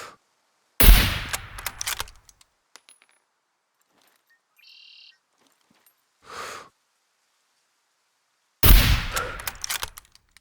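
Two sharp, loud rifle shots ring out about eight seconds apart in the survival game Scum, each with a short ringing decay. Faint small clicks and a brief muffled thump fall in the quiet between them.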